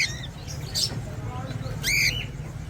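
A cockatiel pair, an Ino pearl female and a charcoal breeder male, gives two short, bright chirps over a low background hum, with someone talking.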